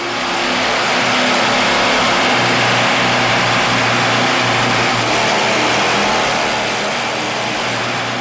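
A Split Cycle engine running on a mix of 60% water and 40% gasoline, a loud steady mechanical roar with a constant low hum, sustained and unbroken throughout.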